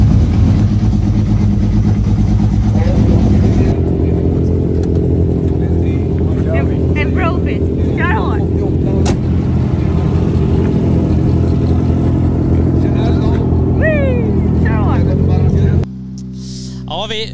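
A car engine drones steadily at close range during a hill-climb record run on special hand-cut patterned tires, with people talking over it before the sound cuts away near the end.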